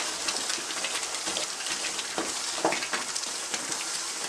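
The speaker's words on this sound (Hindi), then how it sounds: "तकरीबन 5 मिनट से मैं अब इसको भून रही हूँ और देखें आप, इसके किनारे फट रहे हैं और इनमें से घी निकल रहा है।" Green pumpkin halwa frying in ghee as it is stirred, a soft continuous sizzle with light scraping and crackle, fairly quiet and steady without talk.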